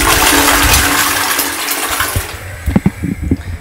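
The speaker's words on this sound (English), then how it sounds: "Ooh, I need to flush the toilet." A household toilet flushes close and loud with a rushing gush of water that drains away, followed by gurgling and trickling as the tank refills, with no voices.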